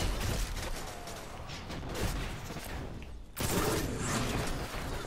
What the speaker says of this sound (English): Oh, being shot at from behind as well, apparently.